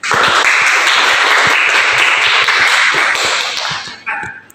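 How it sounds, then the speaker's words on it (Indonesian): Classmates give a dense burst of group applause after a presentation in a classroom lesson. The clapping stays loud and steady for about four seconds, then tapers off. "Beri aplaus untuk teman kita yang presentasi kali ini"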